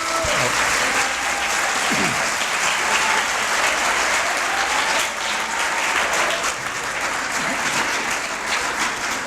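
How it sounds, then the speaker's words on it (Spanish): An audience applauds a lecturer after a history talk at a preparatory school, continuous dense clapping from a crowd that holds steady for about nine seconds, with faint background voices. "Muy merecido el aplauso para nuestro conferencista"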